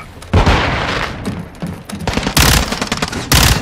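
Flashbang grenade going off in Call of Duty Modern Warfare 2 (2022), amid loud bursts of game gunfire: three sharp, booming blasts with dense crackling between them, close and harsh throughout.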